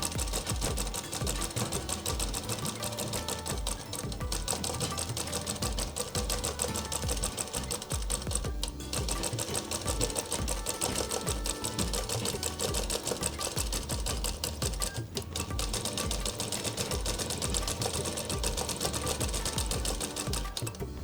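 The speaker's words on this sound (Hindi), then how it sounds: "इस तरह हमने इसकी फिटिंग कर ली है और डबल सिलाई भी कर दी है।" A sewing machine runs steadily for a long stretch, double stitching the sleeve into the armhole of a kurti, its fast even needle chatter continuous with only a couple of brief pauses.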